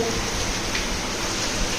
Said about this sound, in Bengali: বাইরে প্রচণ্ড বৃষ্টির আওয়াজ পাচ্ছি